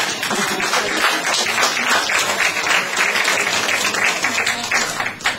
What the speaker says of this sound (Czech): tento váš potlesk je zároveň také gratulací k jejím narozeninám